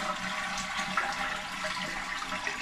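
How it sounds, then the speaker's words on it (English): A running toilet flushes with its handle held down so the bowl drains, giving a steady, close rushing and gurgling of water that continues without pause. "you'll just flush and hold it until the water all drains out."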